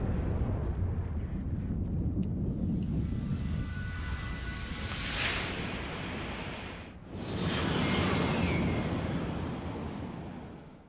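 Deep, roaring rumbles of Aether explosions in Final Fantasy XIV swell into a long broadband wash, fading briefly before a second heavy blast surges back up and slowly trails off.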